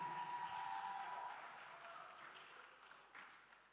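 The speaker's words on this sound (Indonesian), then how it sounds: "Tepuk tangan untuk MC." Audience applause at a school arts festival opening ceremony, a steady roar of clapping from a large crowd that slowly thins and fades over a few seconds, with no talk over it.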